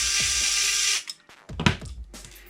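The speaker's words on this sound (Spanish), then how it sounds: "Ahora quitamos el tornillo que vemos aquí abajo" A small screw being removed from a PS5 DualSense controller with a small electric screwdriver, a brief steady whir that stops, followed by light clicks and plastic handling, close and quiet.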